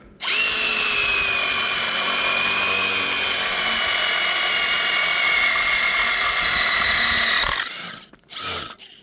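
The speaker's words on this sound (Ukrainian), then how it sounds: "нормально свердлить" A loud power drill whines steadily at high speed drilling metal for several seconds, then winds down and gives two short bursts.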